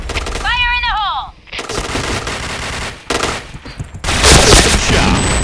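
Gunshots in the Point Blank online shooter game come in loud bursts of rapid fire with short gaps, mixed with game sound effects and a voice.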